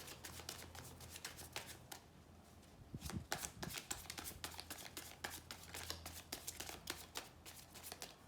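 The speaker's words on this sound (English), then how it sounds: "Last shuffle that I take from the middle." Tarot cards are riffled and shuffled by hand, a rapid run of soft, crisp flutters and taps in quick bursts, close and quiet.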